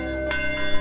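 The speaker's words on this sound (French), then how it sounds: "la même cloche qui sonna ce certain dimanche matin il y a 71 ans, appelant les croyants à venir assister au service, sonne toujours fidèlement actuellement" A church bell rings with a rich, sustained harmonic tone, struck once more partway through and swelling near the end, loud and resonant with no voices.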